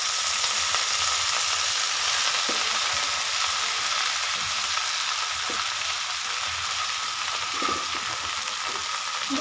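Leafy greens added to onions frying in oil in a pan, producing a steady, loud, close sizzle that runs throughout with occasional stirring scrapes.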